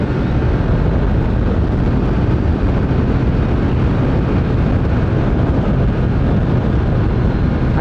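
Riding a Honda CG motorcycle: a loud, continuous engine roar mixed with heavy wind rush fills the whole stretch at a steady level, with no talking.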